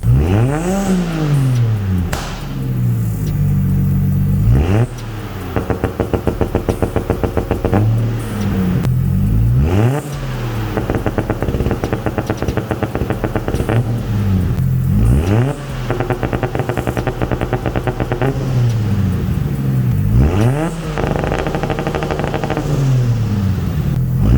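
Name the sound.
RB engine car warming up and revving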